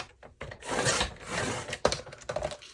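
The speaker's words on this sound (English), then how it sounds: "we just need to trim right where that notch is" Paper for a junk journal is trimmed with a few close scraping, rasping cuts and rustles that come in short uneven strokes with brief pauses between them.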